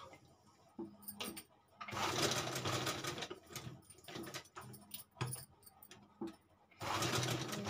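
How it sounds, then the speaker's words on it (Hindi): A sewing machine stitches fabric along its edges in several loud runs, with short pauses and quieter handling clicks between them. "चलिए सिलाई लगाते हैं इस पे।"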